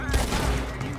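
Gunfire in Red Dead Redemption 2 as a guard is shot, a dense, loud burst of overlapping shots filling the whole second with game ambience beneath.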